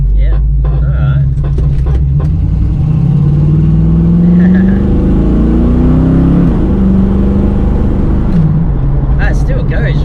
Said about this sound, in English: it's a good strong engine